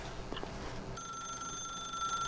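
A telephone rings in The Stanley Parable video game, a steady electronic trill that starts partway through and sustains at moderate volume over faint room noise and an earlier muffled sound, with no speech.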